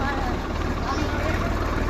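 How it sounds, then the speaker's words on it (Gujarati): A farm tractor engine drones steadily on the ride out to the fields, a continuous low rumble heard from on board the moving tractor, with people's voices chattering over it. "તમે જોઈ શકો છો અમે ટ્રેક્ટરમાં બેસી ગયા છીએ"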